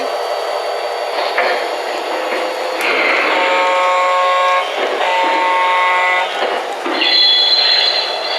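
RS-3 diesel locomotive sound unit on a model train, loud and close: a steady engine drone with tonal horn-like blasts and a sustained high tone near the end, no talking.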